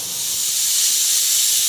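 Steam hisses steadily from a pressure cooker whistle on a gas stove while pork with elephant apple cooks, a bright, sustained, fairly loud jet of venting vapour with no break.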